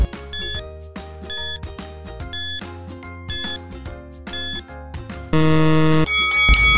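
A countdown timer in a children's English quiz: steady repeated ticking with bright chimes at even intervals, then a loud, continuous ringing alarm and a few final beeps.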